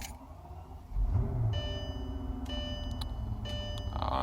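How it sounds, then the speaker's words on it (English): The engine of a 2003 Mercedes S-Class with a transmission problem cranks and starts about a second in. It then settles into a steady, moderate idle, with faint electronic chimes above it. "Let's start it back up."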